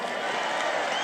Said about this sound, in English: He's giving me applause